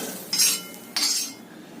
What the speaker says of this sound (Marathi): आता ही आपण भाजी काढून घेऊयात एका प्लेटमध्ये.